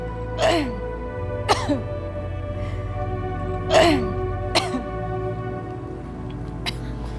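A series of about five or six sharp coughs, spaced a second or two apart, over a steady low hum.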